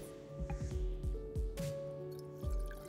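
About two cups of water pour and splash into a pan for spiced tea in a series of close, uneven splashes, with a steady hum in the background and no talking.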